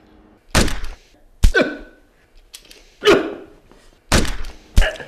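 Film body-hit sound effects, a series of five sharp, heavy thumps spaced irregularly, each with a brief decaying tail, loud and isolated against near silence.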